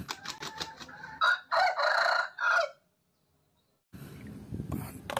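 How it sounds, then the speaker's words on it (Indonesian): A rooster crows once, loud and close, after a few short clucking sounds, followed by a pause and then a burst of rustling noise. "Ayam."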